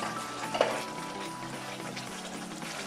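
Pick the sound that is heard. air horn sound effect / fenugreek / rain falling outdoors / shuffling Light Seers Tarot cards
fenugreek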